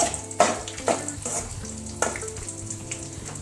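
Pounded salted dried meat (uppu kandam) crackles while frying in oil, a close sizzle with a few louder pops and stirring scrapes.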